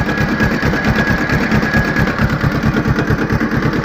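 A tractor engine running in gear, a steady loud mechanical drone with a rapid regular chugging pulse throughout, close by, with no speech.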